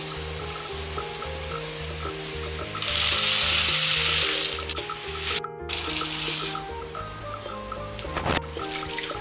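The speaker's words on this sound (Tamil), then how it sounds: "வெங்காயம் சேர்த்து நல்லா கொஞ்சம் வதக்கிக்கோங்க" Onions sizzle steadily in hot oil, swelling briefly into a louder hiss midway, with faint stirring and music playing softly underneath.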